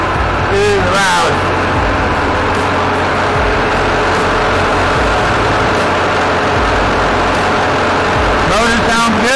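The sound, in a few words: engine of a 2002 Duramax truck running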